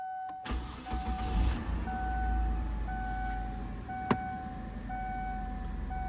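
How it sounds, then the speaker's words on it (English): A 2002 Kia Sedona engine turns over on a cold start and settles into a steady low idle, with a repeating chime beeping over it and one sharp click partway through. "Now this is a cold start."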